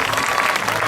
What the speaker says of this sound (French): on peut applaudir Elsa, s'il vous plaît